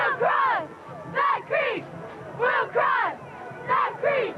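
Edison Wildcat cheerleaders shout a rhythmic chant at a 1996 high school football game, with loud paired bursts of voices recurring about every second and a half, close and clear over faint crowd murmur.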